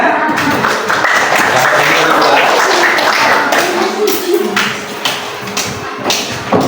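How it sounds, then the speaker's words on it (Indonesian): Classroom applause for a student group, a dense burst of many hands clapping close by that thins into scattered claps and thumps toward the end. "Tepuk tangan, kelompok 3."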